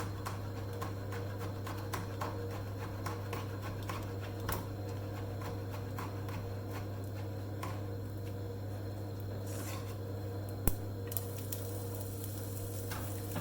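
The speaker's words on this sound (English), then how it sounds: "the mustard seeds are spluttering" Mustard seeds splutter in a pan of browning coconut with green chili, giving quiet scattered pops and ticks over a soft, steady sizzle, with one sharper crack partway through.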